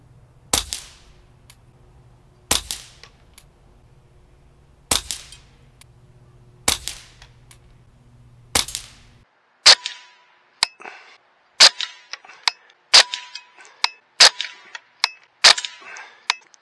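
Suppressed rimfire shots of CCI standard velocity ammunition fired through a Silencerco Warlock II suppressor on a Ruger at 35 yards: sharp, dry cracks, first five evenly spaced, then a faster string of about eight more.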